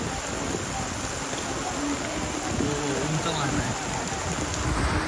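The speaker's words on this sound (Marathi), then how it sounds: "पाऊस पडतोय असं आपण भिजलो जायचं." Steady rain pours outdoors around a rubber-ball cricket match, a constant dense patter with no break, close and fairly loud. Voices can be heard faintly beneath it.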